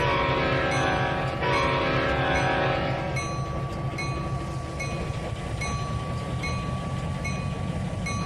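A train in the Trainz 2019 video game rolls steadily along with a continuous rumble and rhythmic clicking over the rails, plus a sustained tonal whine, with no voices.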